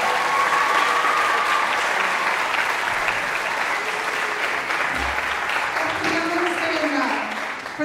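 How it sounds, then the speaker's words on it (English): Sustained applause from a large crowd at a junior high spring concert in Davis, California, loud and steady for several seconds, tapering slightly near the end. "Let's give them another round of applause."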